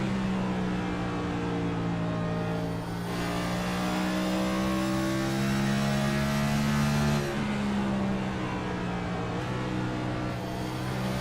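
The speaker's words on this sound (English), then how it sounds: "He's downshifted. He's using that downshift to slow himself down because he's so loose." A race car in a sim racing game at Bristol Motor Speedway, loud and steady: engine drone rising in pitch, then a sharp downshift drop near the middle and another shift later, with no talk.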